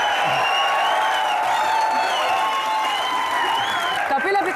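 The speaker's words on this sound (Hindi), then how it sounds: "एक बार अजय देवगन और करीना कपूर के लिए जोरदार तालियां" A studio audience on the Comedy Nights With Kapil comedy show applauds Ajay Devgn and Kareena Kapoor, a thick wash of clapping under sustained bright musical tones, ending with a brief voice.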